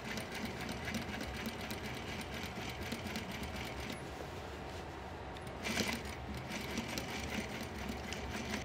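Sewing machine stitching a patch over a hole in a pair of jeans, running as a steady continuous whir with a short louder burst partway through.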